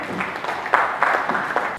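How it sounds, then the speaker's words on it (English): Steady applause from an audience at a health agency meeting, dense clapping at moderate distance lasting the whole moment. "Please, a round of applause for him."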